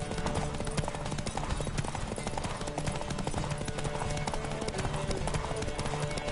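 Rapid horse hoofbeats in The Witcher video game drum continuously at full gallop, close and loud, layered with background music and rushing noise.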